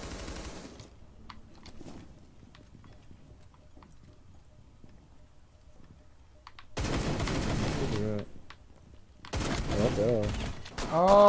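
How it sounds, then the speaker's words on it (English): Gunfire in Rainbow Six Siege, quiet scattered pops at first, then two loud bursts of rapid automatic fire, the second one clipped short. "Captain, you're shooting at me."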